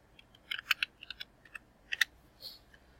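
Typing on a FlexPendant input panel for an ABB IRC5 robot controller: a few faint, quick taps in short clusters separated by brief pauses, close and quiet.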